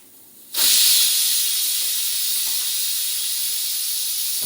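A pressure cooker cooking millet bursts into a loud, steady steam hiss after a brief quiet start and keeps releasing evenly until it cuts off at the end.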